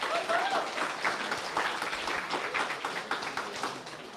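An audience at a hackathon final demo livestream applauds steadily with dense clapping, which tapers off slightly toward the end, and a brief whoop rises near the start.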